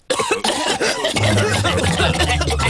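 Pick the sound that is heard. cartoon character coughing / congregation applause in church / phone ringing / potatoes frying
cartoon character coughing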